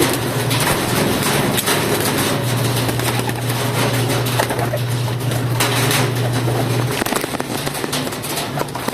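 Pigeons in a loft, a dense busy wash of cooing and flutter with a steady low hum throughout, continuous and fairly loud with no speech.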